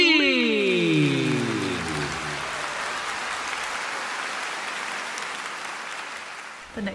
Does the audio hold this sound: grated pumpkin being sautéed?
no